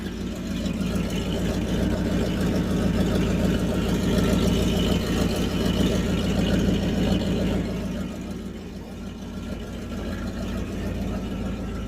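A 1969 Buick Electra engine running without an exhaust idles with a loud, raw, rumbling drone that holds steady, then eases slightly toward the end.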